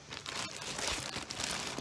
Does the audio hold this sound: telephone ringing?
no